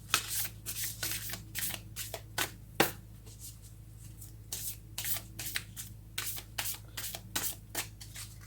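Tarot cards are shuffled in repeated quick riffling bursts, each a short papery flutter, about a dozen of them in an irregular rhythm, close and fairly quiet over a low steady hum, with no talking.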